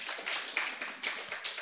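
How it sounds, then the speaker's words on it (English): An audience applauds a secretary at a gathering with brisk, even clapping that stays steady and moderately close through the short stretch, without any voices. "Please, let's give our secretary a hand of applause."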